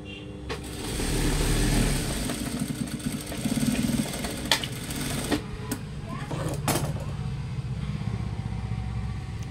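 Sewing machine stitching the side seam of a blouse, a close, continuous mechanical whir with a fast rattling needle rhythm that swells and eases, interrupted by a few sharp clicks and someone talking over it.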